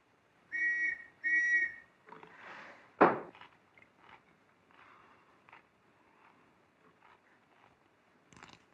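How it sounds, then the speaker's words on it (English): Two short, bright whistle blasts sound close together at the start, followed by footsteps, a thump and scattered rustling, set in a 1934 classic thriller. "The whistle that was blowing just now."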